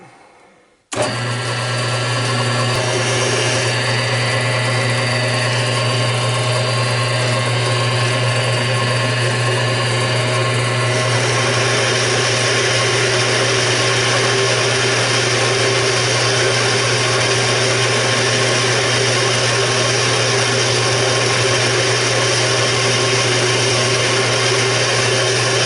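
A metal cylinder being turned on a lathe, a half inch cut away, giving a loud, steady machine drone with a constant hum that starts abruptly and runs unbroken, close and alone.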